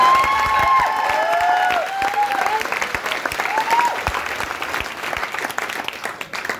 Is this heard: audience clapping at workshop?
yes